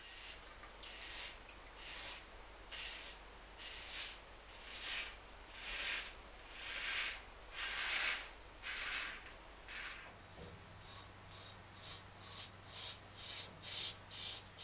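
A stainless steel Razor Company safety razor scrapes through lather in a first pass with the grain during a traditional wet shave: quiet, rhythmic rasping strokes close to the microphone, then shorter, quicker strokes.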